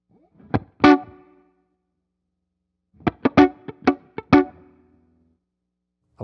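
Electric guitar through a plate reverb setting: a few single notes, then a quick run of picked notes, each ringing out into a smooth wash of decay, played alone and up close.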